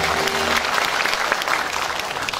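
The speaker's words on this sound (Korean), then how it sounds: "큰 박수 부탁드립니다" A crowd claps steadily throughout, dense and even applause filling the room with no pauses, at a poetry recital performance event.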